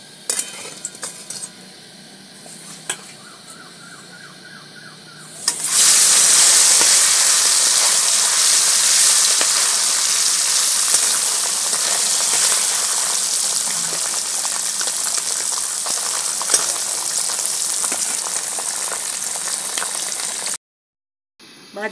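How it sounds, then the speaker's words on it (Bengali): Gule fish frying in a pan of hot oil, a loud, steady broadband hiss that bursts in suddenly after quieter kitchen clatter, then cuts out near the end. "এইভাবে সব মাছগুলোকে ভেজে নেবো বন্ধুরা।"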